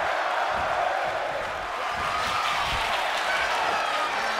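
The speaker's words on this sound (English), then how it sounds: "this crowd is on their feet in full approval" A large crowd at a New Japan Pro-Wrestling singles match applauds and cheers in a sustained roar of clapping, loud and continuous from all around.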